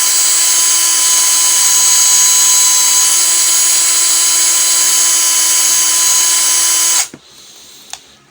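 An EELIC 12V cordless drill spins at speed setting 1, giving a steady, loud high-pitched whine for about seven seconds before cutting off abruptly, followed by a faint click and quiet handling.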